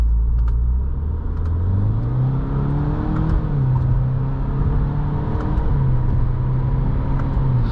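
A 2023 Subaru WRX GT in Sport Plus mode accelerates onto a highway, its engine note rising and shifting in steady pulls with a continuous road roar, close and moderately loud.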